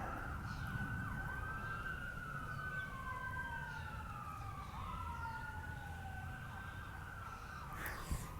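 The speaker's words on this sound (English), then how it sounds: "Here's some sirens in the background." Distant emergency sirens wail and overlap, rising and falling faintly over steady outdoor background noise.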